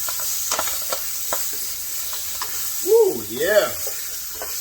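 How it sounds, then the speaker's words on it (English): Baby bok choy with salt sautéing in a pan, a steady bright sizzle with stirring clatter, while a voice briefly cheers over it near the end. "we're going to saute this up"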